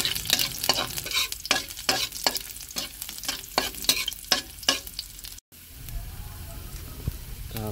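Ginger sizzles in hot oil while being stirred, with a rhythmic series of close scraping strokes over a continuous frying hiss, then a short break before gentler sizzling resumes.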